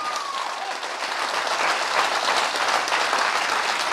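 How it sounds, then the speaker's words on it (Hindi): An audience claps loudly at an indoor motivational training seminar, a dense, steady roar of many hands that swells slightly and continues throughout. "जोरदार तालियां बजा के दिखाइए"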